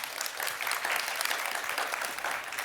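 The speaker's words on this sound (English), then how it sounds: "Give them a bigger round of applause" An audience claps warmly and steadily, a dense continuous wash of applause filling the hall without pause.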